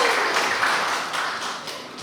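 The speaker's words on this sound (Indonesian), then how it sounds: "Mari kita beri tepuk tangan yang meriah dulu untuk keduanya." An audience gives warm applause to two guests at an Indonesian youth environmental gathering, a dense, even roar of clapping that fades slightly toward the end, with no voices over it.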